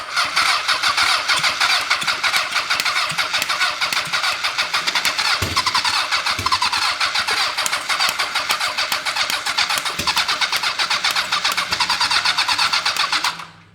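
A Honda CB750 motorcycle engine cranks under the starter and tries to catch, a loud, continuous rough churning close by for about thirteen seconds before it cuts off.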